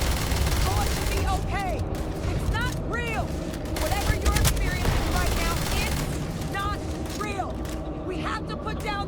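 Gunfire aimed at a Terrormorph in Starfield, a loud, steady stream of shots running through the whole stretch, mixed with chirping creature or effect sounds and a voice talking over it.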